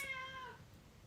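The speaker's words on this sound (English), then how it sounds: "Don't just stand outside the door and meow." A cat meows just outside a door, a single drawn-out meow at close range that fades quickly, with no other sounds around it.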